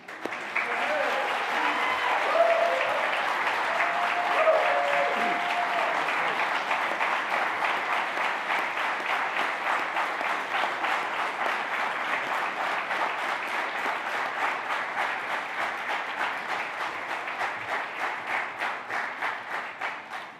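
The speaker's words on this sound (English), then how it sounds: "A standing ovation that is well-deserved" Sustained applause from a large audience giving a standing ovation at an opening ceremony, steady and loud with dense rapid clapping that continues without pause for about twenty seconds.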